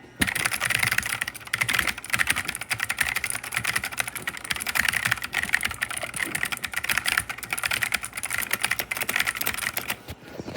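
Fast, continuous clicky typing on a Black Shark mechanical gaming keyboard with blue switches, loud and close, with rapid sharp keystrokes and no talking.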